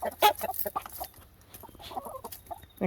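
A rooster clucks close by in a farmyard in spring, giving several short, irregular bursts of throaty calls with quiet gaps between them.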